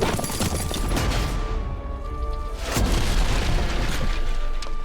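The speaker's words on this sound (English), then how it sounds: "Is she gonna blow up the bridge behind us?" A bridge blows up in The Witcher 3: Wild Hunt, loud rumbling booms and crashing debris rolling on, with a second big blast swelling near the middle of the clip, no talking.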